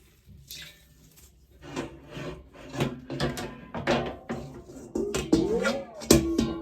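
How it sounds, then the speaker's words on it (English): A soaked T-shirt, wet from a soda ash soak, is wrung and squeezed by hand, giving soft wet rubbing and squelching bursts that grow louder and more frequent, with a few drips and fabric creaks. "I just squeeze all the water from the shirt."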